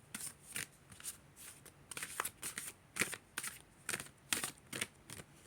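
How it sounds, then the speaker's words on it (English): Playing cards drop shuffled in quick bursts, a run of crisp papery riffles and flutters repeating steadily, close and fairly quiet, with no voices. "I will drop shuffle these."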